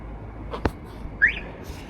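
A short electronic chirp from a Toyota JZX100's car alarm as it locks rises once over faint outdoor parking lot noise, with a couple of soft clicks just before it.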